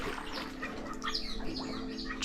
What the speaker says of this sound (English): Just a few birds and a few frogs.